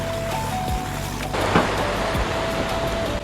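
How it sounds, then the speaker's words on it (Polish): A motorboat carries passengers to Railay Beach in Krabi, Thailand; its engine drones steadily under a constant wash of waves, with a few thumps as the hull bounces on the water. "łódź trochę podskakuje na falach i silnik jest dość głośny"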